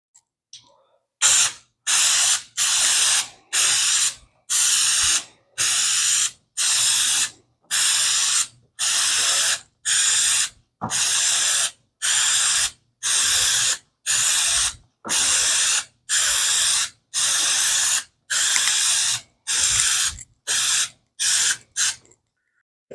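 Repeated short hissing bursts from an aerosol can as oil is sprayed onto a K&N conical air filter, about twenty evenly spaced sprays close up with brief silent gaps between them.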